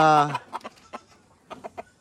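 A chicken gives a short squawk, then several soft clucks in quick, scattered bursts, close by and quiet.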